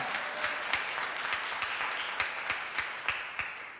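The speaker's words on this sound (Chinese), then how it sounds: "我们拍掌感谢神" Church congregation applauding together during a worship service, a dense run of steady clapping with no speech over it.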